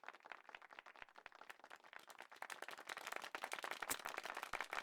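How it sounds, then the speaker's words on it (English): Steady, dense video game applause from a crowd, many hands clapping at once, growing a little louder toward the end. "The thundering applause is louder than ever."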